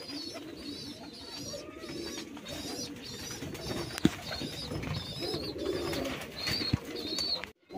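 Pigeons coo in their nesting boxes in a loft, soft repeated low calls overlapping in a steady murmur, with an occasional knock or rustle nearby.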